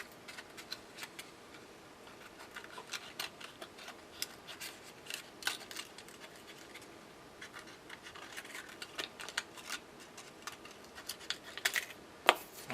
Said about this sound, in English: I just go around with all of them with a pair of scissors